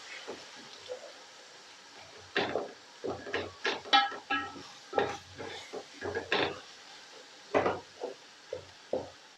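Spices stirred into biryani in a pot: a wooden spoon scrapes and turns the mixture in a string of irregular strokes, with a faint sizzle underneath, close and fairly quiet.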